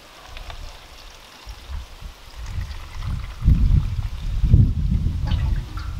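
Rainwater is poured into a container of garden twigs to make a hoverfly lagoon. A soft, low sloshing and splashing rises and grows heavier partway through, with no talking.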